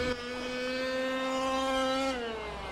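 Team Corally Asuga XLR RC buggy running on a 6S battery, a steady high-pitched electric motor whine that holds one pitch and then dips near the end, loud and close with no talk.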